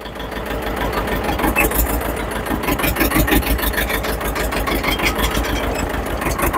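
A farm tractor engine runs steadily with a rapid, even low throb and rattling knock, close and continuous throughout, with no talking.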